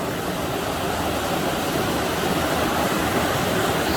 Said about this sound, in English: It's going through the mountains and it's ending up in this river here.